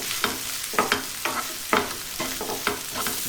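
Freshly grated coconut stir-fried in a pan with the base of a Chettinad mushroom curry, loud sizzling broken by regular scraping strokes of a spatula about every half second, close and steady with no talk.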